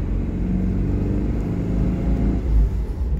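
A Polonez Caro Plus with a Rover 1.4 16V engine runs steadily, giving a low, even rumble heard close up with no talking.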